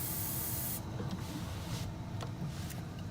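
Can of brake parts cleaner sprayed at bald-faced hornets outdoors, a close, steady aerosol hiss that cuts back after the first moment and continues as a softer rushing spray with faint clicks.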